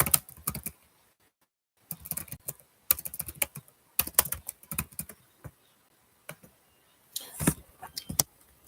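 Typing on a computer keyboard, close and quiet bursts of rapid key clicks separated by short pauses, alone with no talk.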